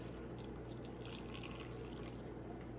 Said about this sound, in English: then I fill it up with some water and I let it just soak